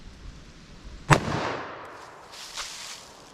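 A single sharp .357 Magnum revolver shot cracks into clear ballistic gel outdoors, followed by a fading echo and a faint later pop.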